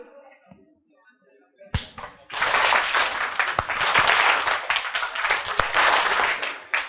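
A large college audience of engineering students bursts into sustained hand clapping after a quiet moment, loud and dense for several seconds with scattered sharper claps.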